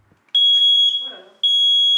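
Loud, high-pitched smoke detector alarm beeping indoors, two sustained electronic tones separated by a brief gap, with faint voice sounds in between.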